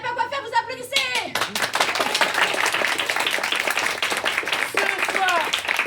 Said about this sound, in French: Si vous savez pas quoi faire, vous applaudissez.